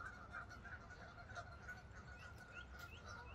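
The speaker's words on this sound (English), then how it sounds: "All the geese are rowdy this morning." Geese honk repeatedly at a campground in the morning, faint and somewhat distant, with overlapping calls above a low background rumble.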